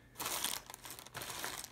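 A plastic bag crinkles inside a cardboard puzzle box in two soft, continuous stretches of rustling with a brief pause between, quiet and close, with no voices.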